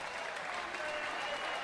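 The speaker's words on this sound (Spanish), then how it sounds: "Aplauso para los más grandes, los número uno, indiscutido," A crowd at a live cumbia show claps and applauds in a dense, even wash of sound that holds steady for the whole moment.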